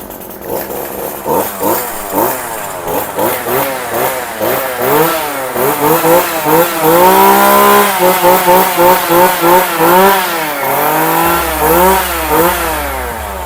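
A Kioritz REM2620 26cc two-stroke brush cutter engine running close by, revving up and down in a rapid, rhythmic series of buzzing surges, then holding a higher whine before easing back.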